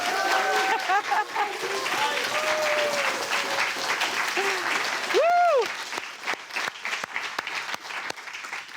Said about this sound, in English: the cheer also from Sandy Spring